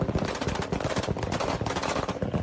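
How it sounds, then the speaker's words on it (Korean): Anti-aircraft guns fire heavily at a UFO in a rapid, sustained barrage of sharp bursts, loud and continuous with dense overlapping shots and no pauses or talk. "지금 보시는 것이 엄청난 대공포를 쏘고 있습니다"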